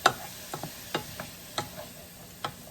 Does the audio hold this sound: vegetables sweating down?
yes